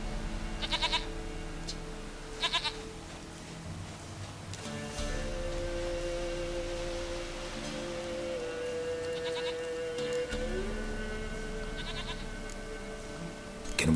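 A goat in The Witcher 3 gives several short, wavering bleats that stand out over a steady game ambience with drones and tones.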